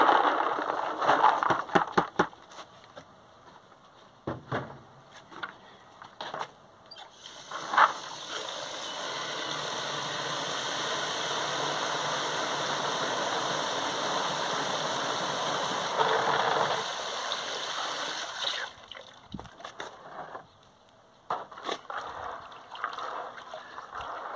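Wild rose hips are washed in water, producing a steady running rush that builds and holds for about ten seconds at close range, framed by scattered clicks and knocks before and after.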